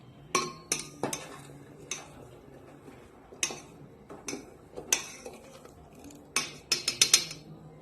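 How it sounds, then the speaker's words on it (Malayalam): A spoon clinks and scrapes against a pot while sugar is stirred into semiya payasam, a series of sharp, bright metallic taps in irregular bursts, close and fairly quiet, with no voices. "ഇനി നമുക്ക് ഇതിലേക്ക് മധുരത്തിന് ആവശ്യമായ പഞ്ചസാര ഇട്ട് കൊടുക്കാം ഒന്ന് ഇളക്കി കൊടുക്കാൻ പറ്റും"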